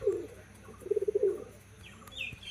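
Sylheti Kamagar pigeons give a few soft, low coos in short bursts, with faint chirps from other birds nearby and no voices.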